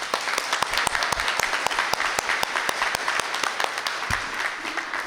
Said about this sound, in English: So please join us in a round of applause for them.